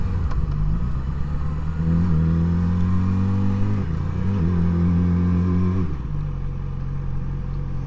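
A Yamaha R6 sport motorcycle rides along a street, its engine rumbling in a steady low drone that swells with a short rev midway and then settles, heard up close with wind noise and no talking.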